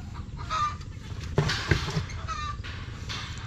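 Chickens cluck around nesting boxes beside bamboo on a small backyard poultry setup, several short calls rising from low background noise, with one sharper burst partway through.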